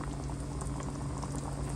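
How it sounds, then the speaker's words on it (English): Creamy pasta sauce of cream cheese and ground beef boiling at medium heat, a steady close bubbling and popping simmer that runs evenly without pause. "Once it's boiling right from the center, like this, you are ready to add your pasta into it."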